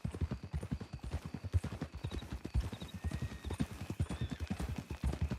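Horse hooves clip-clop at a steady walking rhythm in Red Dead Redemption 2, close and fairly quiet, with faint background ambience and no talk.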